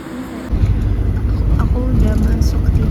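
Inside a moving bus on the road to Goroklen, a steady low engine and road rumble fills the interior, loud and continuous with no voices.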